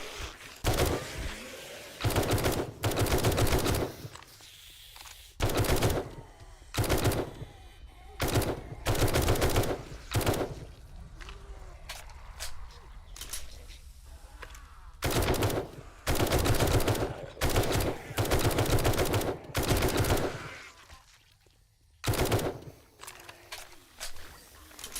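Video game machine gun fire rips out in loud, sharp bursts of a second or two, separated by short quieter gaps.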